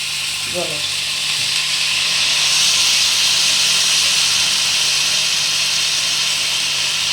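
Water poured into a hot pan of dalia for a weight-loss pilaf, a loud continuous steam hiss and sizzle holding steady throughout, with a faint clink near the start.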